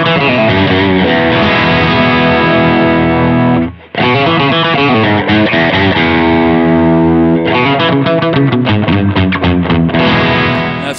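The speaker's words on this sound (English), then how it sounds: "Kind of a classic, maybe always on sound that I would use in conjunction with an overdrive, and I do have the Santa Ana overdrive here," Electric guitar played through a Santa Ana overdrive pedal and a Fender Marine Layer reverb pedal: loud, sustained distorted chords with a brief break, then rhythmic strummed chords and a lingering reverb wash.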